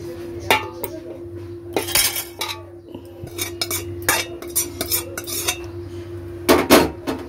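A metal spoon scrapes and clanks against a biryani pot as the remaining meat is added, a close run of irregular clinks and scrapes over a low steady hum, with a louder cluster of knocks near the end and no voices.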